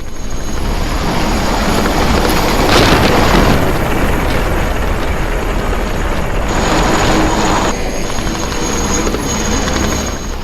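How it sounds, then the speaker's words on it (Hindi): Aircraft engines roar over Ukraine in a loud, continuous rumble that swells and fades in waves, sounding close overhead, with no talk. "यूक्रेन के आसमान में रशिया के फाइटर जेट्स की गड़गड़ाहट लगातार सुनाई दे रही है।"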